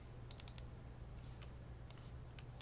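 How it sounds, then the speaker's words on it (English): Playing cards from a deck are riffled and shuffled in a quiet room: soft, faint clusters of quick flutters and clicks over a low steady hum. "I'll go ahead and shuffle the deck"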